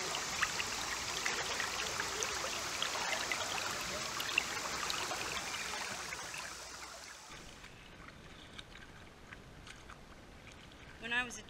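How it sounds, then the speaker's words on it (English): Shallow water of Bushkill Creek in a Pennsylvania park flowing and splashing steadily around someone wading, a soft bright rush that fades quieter partway through. "I'm standing in the middle of the Bushkill Creek, which is the water that runs through the park."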